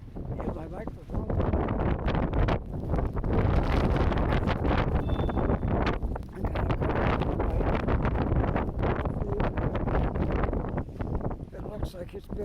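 Heavy wind buffets a handheld microphone during a nor'easter snowstorm on a Halifax street corner, a loud, steady roar with gusty swells and rumbling rustle.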